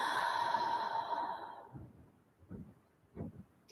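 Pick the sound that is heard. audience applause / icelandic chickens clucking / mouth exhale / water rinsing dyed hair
mouth exhale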